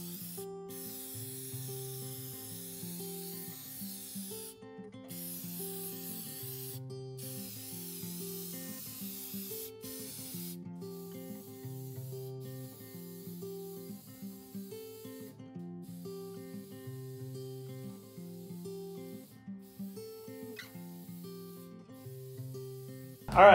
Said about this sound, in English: the spray cans of shellac are working pretty good for the little water stain spots on the ceiling